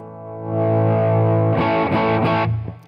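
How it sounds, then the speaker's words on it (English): A distorted electric guitar sustains a chord loudly, then several quick choppy swells cut in and out as the volume knob is turned down and back up, with no talking. "So you can turn the volume all the way off"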